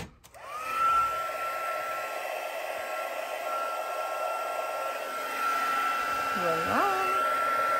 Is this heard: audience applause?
no